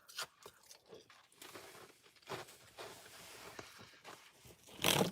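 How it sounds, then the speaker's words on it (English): Crunchy nugget ice from an Opal ice maker is chewed up close in irregular crisp crunches and bites, with quiet gaps between them and a louder crackle at the end. "Oh, it's like Sonic ice and it's real crunchy."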